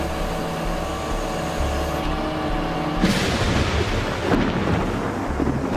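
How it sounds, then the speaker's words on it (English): Thunder from a powerful thunderstorm over the Kuala Lumpur valley, with heavy rain hissing steadily before a loud, deep crack and rolling rumble breaks out and then fades into further low rumbles. "powerful thunderstorms that pound the valley for months on end"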